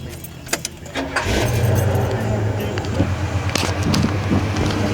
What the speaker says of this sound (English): you want to hear how the car sounds?